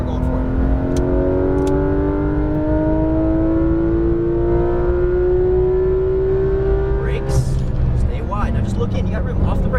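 A Porsche 911 GT3 RS (991) on a racetrack revs up in one long, loud rising engine pull, then the pitch breaks as the car shifts or lifts near the end. An instructor's voice is heard during the run.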